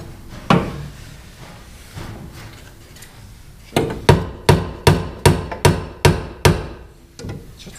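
Hammer blows ring out during removal of an M43B18 engine from a BMW E36 sedan, a series of sharp, evenly spaced metallic knocks, close and loud, after a few scattered single hits.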